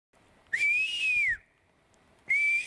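A person whistles in two clear, sustained tones, one rising and falling for nearly a second, then a second starting after a short pause, loud and close with no talking.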